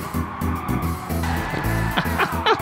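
A race car in Gran Turismo 7 brakes hard, its engine note dropping as the tires skid and squeal in several short sharp bursts near the end, loud and close.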